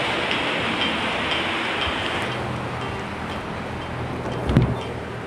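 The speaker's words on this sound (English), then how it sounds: "It's raining right now, that's why." Steady broadband hiss of rain falling, continuous and fairly loud, with a brief low thump near the end; no voices.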